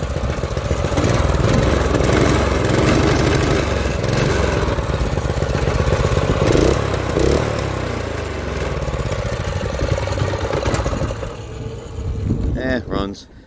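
A small Doodlebug DB30 minibike engine runs steadily and loudly up close, a rough buzzing idle that fades out near the end.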